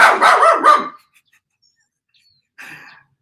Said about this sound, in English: These are my really good friend's dogs.